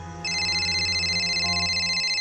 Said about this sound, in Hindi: अरे ये बार बार किसका फोन आ रहा है?